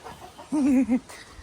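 A rooster in a bird garden in Riyadh gives one short, throaty cluck in two quick tonal bursts, fairly close, against a quiet outdoor background.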